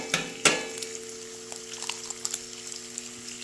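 An egg cracks onto a 21-inch VEVOR commercial electric griddle, giving a couple of sharp taps followed by a faint, steady sizzle with scattered small pops.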